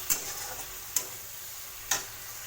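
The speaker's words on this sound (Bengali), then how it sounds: "কিছু পরিমাণে জল অ্যাড করবো। ভালো করে কষিয়ে নেব।" Bitter gourd curry is stir-fried with added water in a pan, a soft steady sizzle broken by three sharp spoon clicks against the pan at roughly one-second intervals, with no talking.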